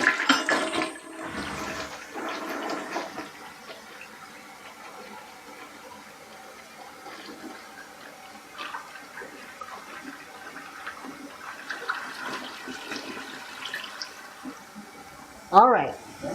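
A toilet in a Quality Inn hotel bathroom in Lincoln, Nebraska flushes with a loud rushing whoosh, then fades to a long hissing refill, with people talking around it.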